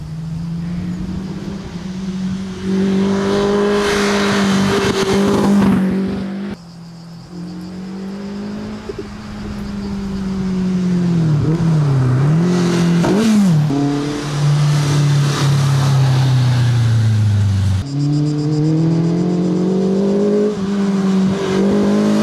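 A Caterham R300 sports car of 175 hp weighing under 600 kg accelerates hard on a track, its loud engine note rising and falling through gear changes and revs, close and continuous without talk.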